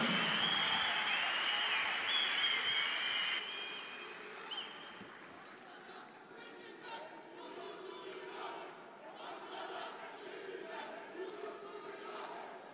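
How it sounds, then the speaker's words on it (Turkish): Crowd applause and cheering at a Turkish political party rally, loud at the start with some tonal shouts, then settling into a steadier, softer wash of clapping and crowd noise. "Hepinizi yürekten alkışlıyoruz."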